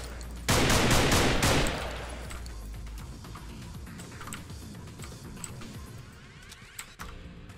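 AR-15 rifle fire in a psychological thriller video game: a loud rapid burst of automatic shots at the start, dying into a long decaying echo and scattered faint ticks, with no talking.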